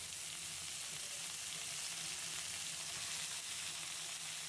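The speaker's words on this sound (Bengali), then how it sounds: "পেঁয়াজ রসুনগুলো বাদামি কালার করে শাকগুলো দিয়ে দিচ্ছি" Leafy greens sizzling and frying steadily in a pan with browned onion and garlic, a continuous close, even hiss with no talk.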